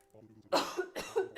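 A single person coughs a few times in quick succession, close and fairly loud, with a brief pause between bursts.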